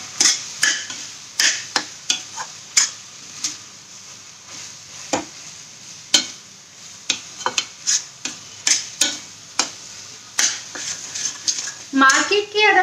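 Vegetables for pav bhaji being pressed and mashed in a pan with a masher, with pav bhaji masala and butter added: irregular clacking knocks and scraping strokes against the metal pan, with a brief sizzling patch at the end.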